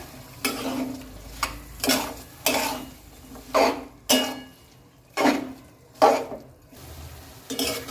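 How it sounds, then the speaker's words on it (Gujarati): Sprouted moong curry being stirred in a pan with a utensil, about eight distinct scraping knocks at a steady rhythm, close and fairly loud, with no voices. "હવે આપણે એને સારી રીતના મિક્સ કરી લઈએ"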